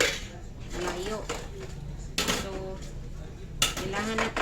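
Dishes and a water container being washed, with clinks and knocks of pots, utensils and plastic under steady running water, while a person talks throughout.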